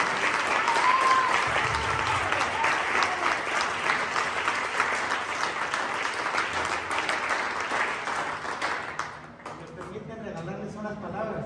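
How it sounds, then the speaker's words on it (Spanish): Warm, sustained applause from a church audience after a Christmas choir performance of O Holy Night, loud and dense for about nine seconds before fading away, with voices underneath. "¡Qué aplauso!"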